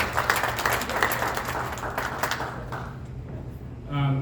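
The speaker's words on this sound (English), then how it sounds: "giving a round of applause for all our women present today" Audience at a Rotary Club International Women's Day celebration applauding the women present, a dense steady clapping that fades toward the end as a voice begins speaking.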